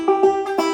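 Old-time clawhammer banjo pinch plucking the first and fifth strings at once, a few quick bright twangy notes ringing close and clear in under a second.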